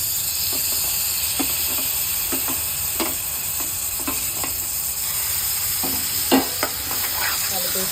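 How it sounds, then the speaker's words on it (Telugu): Tomatoes frying in a pan with curry leaves give a continuous hissing sizzle, broken by scattered stirring clicks and scrapes, close and steady with no talk. "ఇప్పుడు టమాటాలు వేసుకుందాం"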